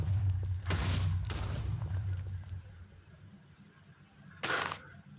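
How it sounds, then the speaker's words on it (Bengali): Loud booming TNT blasts in Minecraft, a dense rumbling barrage at the start with two sharp detonations near the beginning and a final crack toward the end, over a constant low roar. "আপনি টিএনটি চাইলে রেড স্টোন দিয়েও ফাটাতে পারেন।"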